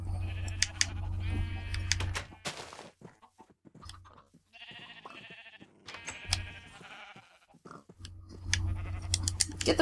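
Sheep in the Minecraft video game bleat repeatedly at close range while a player herds them into a pen, several loud bleats in bursts across the span with game sounds between.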